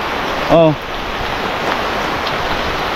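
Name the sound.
heavy rain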